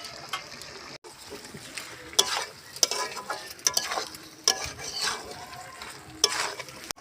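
Chicken coated in a ground mix of cardamom, cinnamon, cloves, bay leaf and black pepper is stirred and sautéed in a pan, with a soft sizzle broken by sharp spoon scrapes and clinks, close and intermittent.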